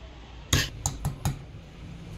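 A spoon mixes ripe mango fritter batter with lightly crushed fennel seeds in a bowl, giving four crisp clinks against the side in quick succession over a quiet background, close by and without voices.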